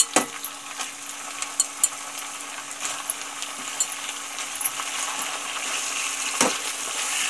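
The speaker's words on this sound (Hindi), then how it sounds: "अब इसी में हम 2 तेज़पत्ता डाल देंगे और इसी में हम ये सारा चिकन अच्छी तरीके से फ्राई कर लेंगे" Chicken frying in hot butter with bay leaves, a steady close sizzle and crackle with scattered pops and occasional stirring scrapes throughout.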